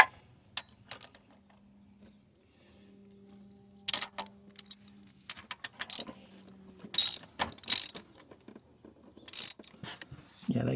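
Ratchet clicking in short bursts while tightening the carburetor on a 1976 Corvette Stingray, close and fairly loud, with quiet gaps between the pulls and no talk.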